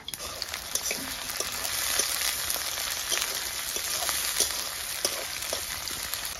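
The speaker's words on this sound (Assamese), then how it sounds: "ইয়াতে মই পাঁচফোৰণ আৰু এতিয়া লগে দি দিম পিঁয়াজ আৰু জলকীয়া" Sliced onions and green chillies hit hot oil with panch phoron, sending up a continuous close sizzle dotted with small popping crackles, with no talking over it.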